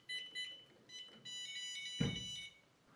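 A quick run of high electronic beeps from a WELOCK ToucA51 smart lock keypad rejecting a wrong code, followed by a sustained tone and a soft thud, quiet and close.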